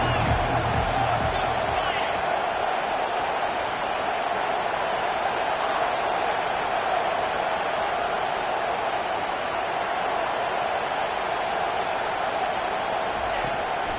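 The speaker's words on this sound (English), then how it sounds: "Decibels rising as the crowd gets behind this defense on third down." A football stadium crowd at a Notre Dame game roars steadily for the defense on third down, a dense, loud, unbroken wash of noise from start to finish.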